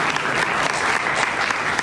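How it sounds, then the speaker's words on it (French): A student audience at a political debate between young party representatives at the Nîmes university claps steadily and densely, a continuous close round of applause with no talking. "on les applaudit plus là"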